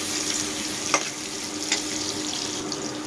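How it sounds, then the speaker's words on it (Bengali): Bay leaf, cardamom and cinnamon fry with chopped onion in hot oil, giving off a steady close sizzle with a couple of light clinks as the pan is stirred. "দিয়ে দিলাম তেজপাতা এলাচ দারচিনি তেলের সাথে একটু মিক্স করে নিচ্ছি"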